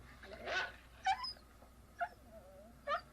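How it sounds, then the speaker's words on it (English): A neighbour's dog barks in a scene from the 1978 horror film Halloween, giving four short, faint yips and yelps spaced about a second apart over a quiet background. "that damn Lester's dog. barking again and getting on my nerves again."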